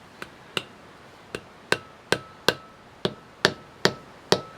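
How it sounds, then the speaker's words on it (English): A hammer taps a wheel bearing seal into place on a Nissan Patrol 4WD: about ten sharp, close metallic knocks at uneven intervals, each ringing briefly, with no talk. "You get your hammer. On the high side, you give it a little tap, and then you work your way around."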